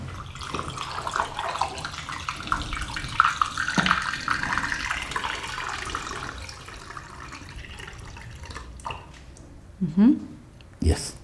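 Developer solution poured out of a tank while developing negative film from a 1968 Praktica Super TL camera: steady splashing and trickling liquid for several seconds, with people talking close by.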